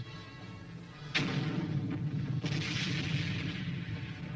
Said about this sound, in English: the miracle weapon of them all, the recoilless rifle, an easy firing weapon packing the punch of an artillery piece